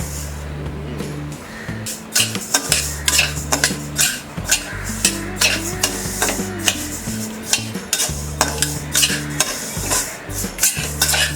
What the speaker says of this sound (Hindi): पैन में डालेंगे ये 2 कप लापसी या ब्रोकन व्हीट। इसे हम ड्राई रोस्ट करेंगे।